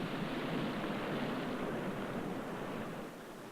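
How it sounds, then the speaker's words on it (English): Rising tide waves wash over rocks along the seashore in a steady, continuous rushing hiss that fades slightly toward the end, with no voices. "The cold fingers of the rising tide creep over the rocks, and the intertidal zone will again be covered by the sea."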